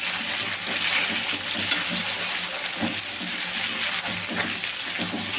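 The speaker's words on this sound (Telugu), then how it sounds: "ఇవి కూడా బాగా స్మూత్గా అయితే వేయించుకోవాలండి" Two medium tomatoes cut into pieces frying in a pan for a Tamil Nadu style parotta kurma, a steady broadband sizzle with occasional stirring scrapes, close and continuous, no talk.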